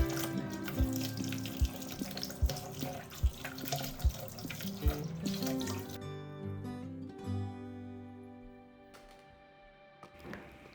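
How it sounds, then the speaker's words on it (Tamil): Tap water runs into a sink while ivy gourds are washed, a steady splashing stream with periodic knocks and clunks, before the flow cuts off and only faint drips and kitchen sounds remain. "கோவக்காவெல்லாம் ஒரு 10 நிமிஷம் தண்ணியில் ஊற வச்சுட்டு நல்லா வாஷ் பண்ணி"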